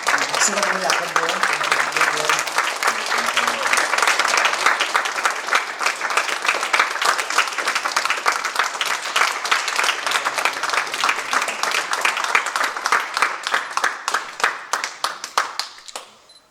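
A congregation claps at a Korean church ordination ceremony: dense, sustained applause for the whole stretch, loud and close, with a voice faintly audible near the start.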